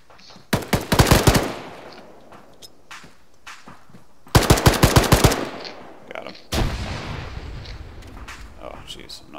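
Machine gun fire in the video game ArmA comes in three sharp, loud bursts of rapid shots, each trailing into echo, with quiet gaps between them.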